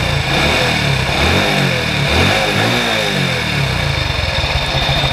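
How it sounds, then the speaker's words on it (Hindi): A Hero Honda motorcycle engine, its tappets freshly adjusted, revs up and down repeatedly, the pitch rising and falling in surges over a constant loud, smooth running drone. "मैं रेस करके आपको दिखाता हूँ,"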